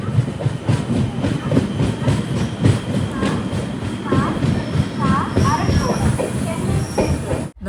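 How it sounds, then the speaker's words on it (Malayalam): The Ernakulam–Tata Nagar Express pulls into Arakkonam railway station with loud rhythmic wheel clatter over rail joints and brief metallic squeals, while voices talk over the rumbling train. "7:20 ട്രെയിൻ ഇപ്പോൾ അറക്കോണം റെയിൽവേ സ്റ്റേഷനിലേക്ക് ഇതാ എത്തുകയാണ്."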